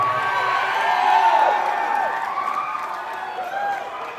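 A concert crowd at a show cheers and whoops in a sustained roar that swells and then slowly fades, with a voice over the top.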